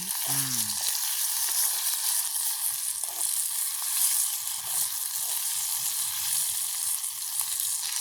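Food sautéing in a pan over a village cooking fire, a continuous close hiss of sizzling oil that holds steady throughout, with a brief tonal sound near the start and no talking.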